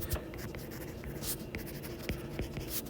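Pen or pencil writing on paper, heard close up as soft, scratchy strokes with short bursts and brief pauses, alone with no talking.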